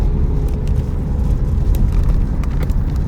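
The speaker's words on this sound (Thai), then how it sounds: "ขับรถไกลเหมือนกันนะกว่าจะถึง" Steady car noise while driving along a road in Nakhon Pathom, Thailand, a continuous low engine and tyre rumble heard from inside the vehicle, with no talking.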